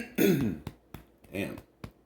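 A person clears their throat and coughs a few times close to the microphone, one rough burst followed by several short sharp coughs.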